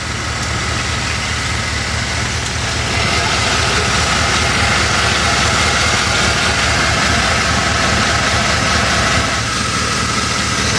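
A Chevy Express van engine idles loud and close after a 6L90E transmission swap, a steady low rumble with broadband mechanical noise that holds evenly throughout, with no talking.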